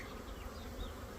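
A continuous mass of humming honey bees works across brood frames in an open hive box, the close, even drone holding steady throughout the brief moment.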